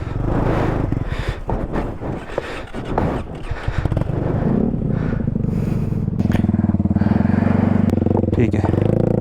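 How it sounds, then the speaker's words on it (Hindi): A motorcycle starts and rides off on a mountain trip toward Rama Lake in Pakistan. The engine rumbles close and loud, settling into a steady drone, with voices talking over it. "स्टार्ट करें बाइक, चलें।"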